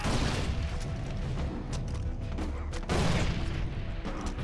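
Grenade blasts in the video game Far Cry 3: a dense, continuous roar of booming explosions and crackling debris, with sharper bursts standing out near the middle and two-thirds through, loud throughout.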